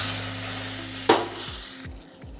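Water is poured into a hot tempering of spiced garlic masala, chilli and coriander in a pan. A short, loud hiss bursts out, then a few faint knocks follow as it settles.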